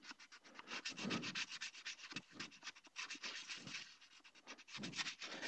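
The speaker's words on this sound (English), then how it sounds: "You want to continue to sand in these circular motions." Wet sandpaper rubs continuously over a hard plastic 3D-printed helmet in quick circular strokes, close and steady, with no talking.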